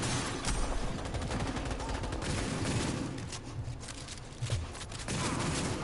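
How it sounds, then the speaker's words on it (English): Sustained rapid gunfire rattles through a Cyberpunk 2077 firefight on PS5 as warning shots are sprayed, a dense continuous fusillade of cracks that thins slightly midway before picking back up, fairly loud throughout. "I'm shooting warning shots on purpose"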